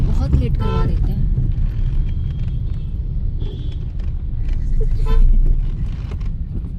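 City road traffic jammed at a red light, a dense rumble of engines with occasional short car horn toots, while people talk over the traffic noise.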